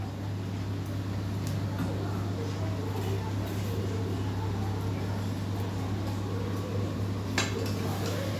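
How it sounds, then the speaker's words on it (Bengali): Potatoes and pointed gourd are stirred together with spices in a pan for a vegetarian curry, with faint scraping and light clinks of a spoon against the pan over a steady low hum. "ভালো করে মশলার সঙ্গে মিক্সড করে নেবে আলু আর পটলগুলোকে"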